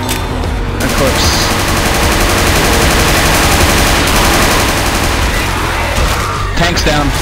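Rapid, dense gunfire from the video game Left 4 Dead plays loud and constant in Survival mode, a continuous crackling barrage with overlapping shots.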